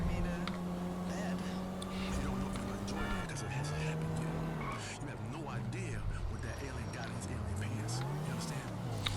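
A car drives in GTA 5, its engine humming and rising and falling in pitch as it accelerates and eases off, with tire noise throughout and a voice talking over it.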